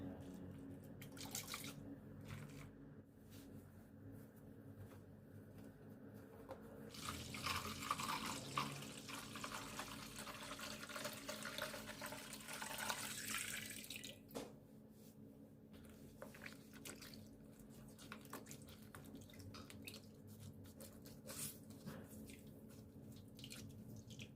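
Water and juice squeezed by hand into five cups of water while making beet spring cabbage water kimchi, with faint dripping, squishing and a brief louder splashing stretch in a quiet kitchen.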